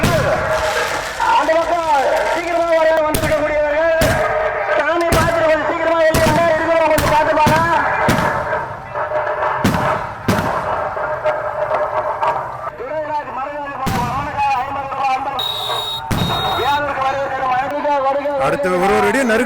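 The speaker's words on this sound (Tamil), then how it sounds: "பாருங்க வேற லெவல்ல வெடியுது வெடி ஒன்னு ஒன்னு சும்மா நறுக்கு நறுக்கு வெடியுது" Sharp firecracker bangs burst one after another at irregular intervals during the Gangai Amman temple festival in Pogai Mottur, Vellore, beneath a man's excited, continuous talking.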